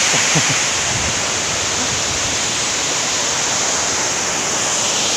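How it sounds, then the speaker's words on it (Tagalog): A small river waterfall spills over a little dam, giving a steady, close, full rushing roar of falling water that stays even throughout with no voices. "Yan yung waterfalls nila mga kalisgo. Yan. Dam na maliit."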